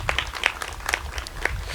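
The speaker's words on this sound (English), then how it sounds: "please give him a round of applause" Sparse audience applause at an outdoor groundbreaking ceremony for a geothermal and energy efficiency project at Como Park Zoo, with scattered claps over a low rumbling background, fairly quiet and brief.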